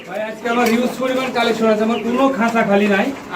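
Pigeons coo repeatedly in a large pigeon farm, their soft, warbling calls close and layered over one another, with someone talking throughout.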